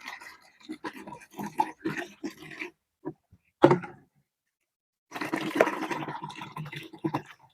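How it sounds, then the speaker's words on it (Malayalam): Water pours from two one-litre bottles into a bucket in two gurgling, splashing runs with a quiet pause between them, close by and with no speech. "ആ 2 ലിറ്റർ വെള്ളം ഈ ബക്കറ്റിലേക്ക് ഒഴിക്കാം"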